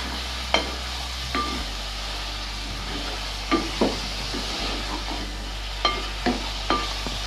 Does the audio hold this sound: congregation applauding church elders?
no